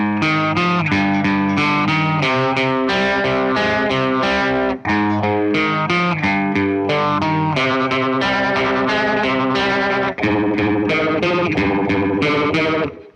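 Electric guitar through an MXR Phase 95 phaser pedal, playing chords and riffs with a swirling, sweeping modulation, loud and continuous with two brief pauses.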